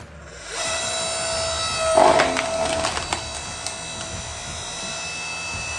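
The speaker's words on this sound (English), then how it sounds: "we are log splitting up these pieces" Firewood logs split inside a barn; a sharp woody crack and splintering cut through a steady machine hum that drones on throughout.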